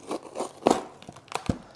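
Scissors cut into the crinkly packaging of a mail-order Philodendron plant in a few quick, close snips and rustles, with a sharper crunch midway and another near the end.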